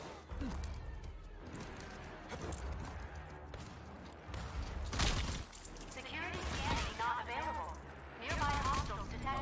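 Gunfire in the shooter RAGE 2 comes as repeated loud bursts and single sharp shots with booming impacts, layered with mechanical clatter and game effects, fairly close and dense throughout.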